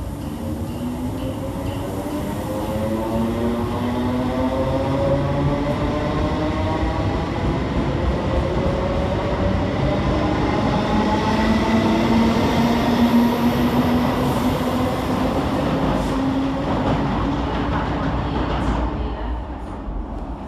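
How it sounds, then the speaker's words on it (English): Scotrail Class 320 electric train pulling out of Glasgow Queen Street station, a steady close rumble with rising traction motor whine and rail noise throughout, fading slightly at the end. "Next for departure is 32315 and 32318. Working the 1719 Scotrail service from Springburn to Dalmuir."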